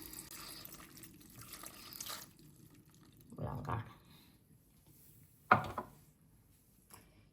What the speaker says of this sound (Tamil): இப்போ தண்ணி விடுவோம்.